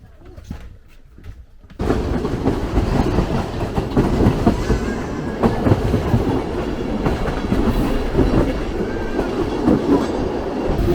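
Montenegro Express passenger train running on rails in the Balkans, a loud steady rumble with rhythmic clickety-clack of wheels starting abruptly after a quiet moment and continuing throughout.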